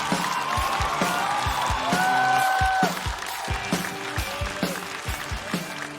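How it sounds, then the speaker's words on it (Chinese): A studio audience applauds at a stand-up comedy show, a steady, dense patter of clapping filling the room, with a few brief musical tones sounding over it. "掌声有请于博。"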